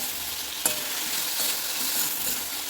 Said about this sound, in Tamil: இதை வந்து நல்லா ஜூஸியாக ஆகிற வரைக்கும் நல்லா வதக்கிக்கணும்